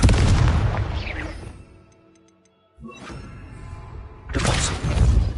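A fiery Confringo spell blast from Hogwarts Legacy on PS5: a loud, broadband burst that fades into a quiet gap, followed by more crackling impacts and a second forceful blast at the end.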